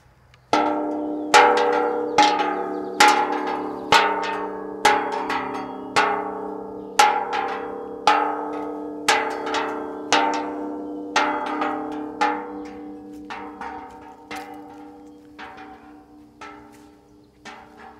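A large outdoor yard bell in a garden rings steadily about fifteen times, each strike clanging loudly with a rich, lingering ring that overlaps the next, fading slightly toward the end.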